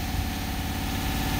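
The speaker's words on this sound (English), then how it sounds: "I'm gonna rev it up here" A 2020 Ford Alumiduty truck engine runs steadily with a low, continuous drone, loud and close. It holds an even level throughout and shows no distinct revving swells, and no voices are heard.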